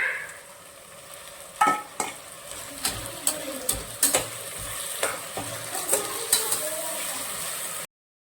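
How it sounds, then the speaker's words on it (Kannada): Ground masala fries in a pan under a low sizzle while a spoon scrapes and knocks against the metal in a regular series of sharp strokes, about one per second, before the sound cuts off abruptly. "1 ನಿಮಿಷ ಫ್ರೈ ಮಾಡ್ಕೊಂಡ್ರೆ ಸಾಕು."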